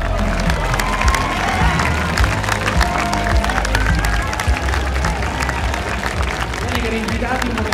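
Party guests at a birthday celebration clap and cheer for the birthday girl, a continuous crowd of applause and excited voices with children shouting, filling the whole stretch at close range.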